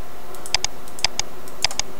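Computer mouse clicking in quick pairs, three double-clicks spaced evenly over about two seconds, crisp and close with no talking.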